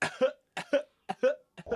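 Four rough, throaty coughs in a row, each short and close, with brief pauses between them, opening a song.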